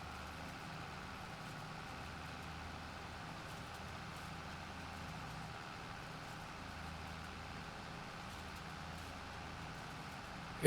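A tractor engine in Farming Simulator 22 drones steadily as the machine pulls away, a continuous low rumble with a constant tone and no change in rhythm, heard alone.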